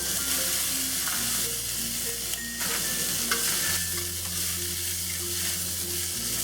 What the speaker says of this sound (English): Just going to toss this for about 30 seconds.